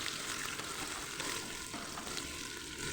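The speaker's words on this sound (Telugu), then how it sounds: "ఒక ఉల్లిపాయ అయితే సన్నగా కట్ చేసుకొని వేసుకొని ఫ్రై చేసుకోవాలి" Thinly sliced onion and green chillies fry in oil with curry leaves for a raw plantain masala curry, giving a continuous soft sizzle with faint stirring, steady and moderately close.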